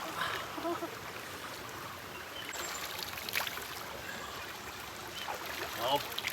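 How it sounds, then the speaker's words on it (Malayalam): A steady, gentle mountain stream flowing and trickling over rocks, continuous water babble at moderate distance with a few small splashes. "നമ്മൾ ഹോം സ്റ്റേൻ്റെ നേരെ താഴെ തന്നെയാണ് ഈ അരുവിയുള്ളത്"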